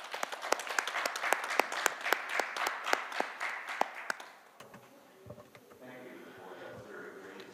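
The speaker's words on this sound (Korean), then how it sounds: "큰 박수 부탁드립니다." At the 2022 Jeju Forum, a conference audience applauds a speaker's introduction with dense, steady clapping and a few sharp louder claps, ending after about four seconds and giving way to quieter room sound and talk.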